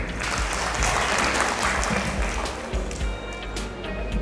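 Applause from an audience at a school farewell ceremony for SSC students, honouring their teachers and instructors; dense, steady clapping fills the whole stretch without a break.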